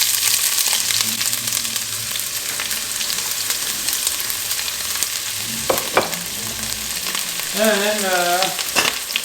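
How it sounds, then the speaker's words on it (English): Chopped onion frying in hot olive oil, with a steady close sizzle and crackle, brief stirring clatters and a short burst of voice near the end. "I'm heating the oil. Oil is hot. I'm gonna add this onion."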